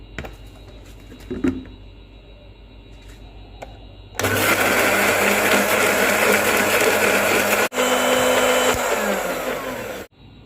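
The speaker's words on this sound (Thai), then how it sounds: "มันเป็นอกไก่นะครับ ที่เราปั่นมาแล้วครับ" A blender whirs loudly as it purees chicken breast into puppy food, switching on abruptly after quiet handling noises, running steadily with one brief cut, then stopping.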